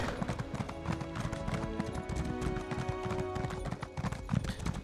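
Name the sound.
horse hooves while riding, from video game Elder Scrolls Online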